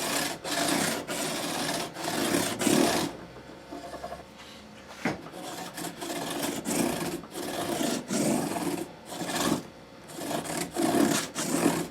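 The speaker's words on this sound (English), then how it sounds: "I'm just going along that edge now and knocking off any sharpness. This is 320 grit sandpaper." Sandpaper of 320 grit rubs along the edge of a Martin D-28 acoustic guitar in close, rhythmic back-and-forth strokes, each a loud raspy swish separated by brief pauses; no talk.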